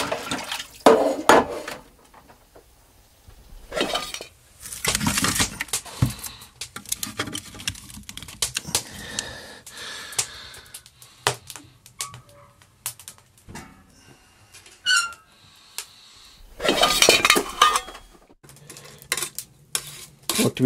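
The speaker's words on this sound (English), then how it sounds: "But first, I got to do dishes." Dishes are washed by hand in an off-grid log cabin in the Yukon. Tap water runs in bursts while cutlery and pots clink and clatter up close, with quieter stretches between the louder splashes.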